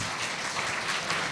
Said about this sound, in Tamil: உண்மையிலே பிரம்மாண்டமாகவே கைத்தட்டலாம்